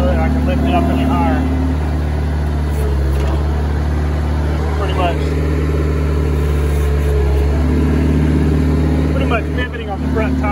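A Bobcat skid steer engine labors at a steady low drone while lifting a fallen tree, the heavy hum holding close and loud throughout with a hydraulic whine rising near the end and a voice talking over it.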